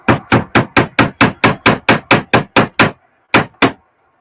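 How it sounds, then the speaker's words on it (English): Sharp hammer blows drive a small track pin into a model railway layout, about a dozen quick, evenly spaced taps followed by a short pause and two final strikes, close and loud with no talking. "Excuse the banging, I'm just going to put a track bin in."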